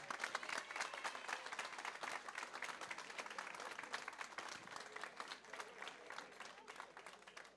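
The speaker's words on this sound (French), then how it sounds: "C'est Gisèle Leux, applaudissez-la bien fort." An audience at a citizens' movement dinner applauds a newly introduced candidate, with dense, steady clapping that fills the room for the full stretch and fades slightly toward the end.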